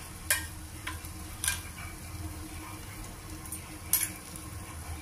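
Masala powder is stirred into okra pieces frying in a pan, a low, soft sizzle under a few sharp spoon knocks against the vessel, quiet and close, with no voices.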